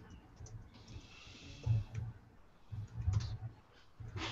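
Soft, scattered clicks of typing on a computer keyboard come faintly through a webinar microphone, a few irregular taps against a quiet background.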